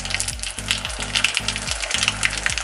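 Mustard seeds, cumin and dried chillies sizzling in hot ghee or coconut oil, a continuous crackling hiss with bursts of popping, close up, over a repeating low tonal hum and with no talk.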